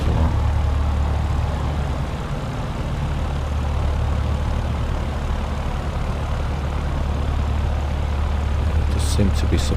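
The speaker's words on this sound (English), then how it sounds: "Yeah, his engines are definitely still on." Aircraft engines keep running after an emergency landing at a vintage airshow at Duxford in Microsoft Flight Simulator, producing a loud, steady, low droning roar that continues unbroken throughout.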